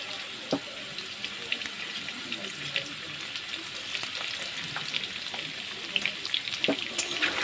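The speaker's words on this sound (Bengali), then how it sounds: "একটু ভালো করে নাড়িয়ে দেবো পুরো আলুটার গায়ের মধ্যে যেন লবণটা লেগে দেবো" Salted potato pieces fry in oil while being stirred, with a continuous close sizzle and scattered clicks and scrapes of the utensil against the pan.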